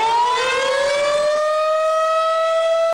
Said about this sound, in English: an article about the siren says